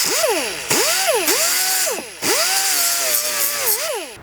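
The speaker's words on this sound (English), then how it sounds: "I'm just going to take a little air sander and kind of smooth out where I've made this cut" A small air sander smooths a cut edge in plastic on a Bronco's overhead panel, its high whine rising and dipping as it revs in a few loud pulses with brief drop-offs.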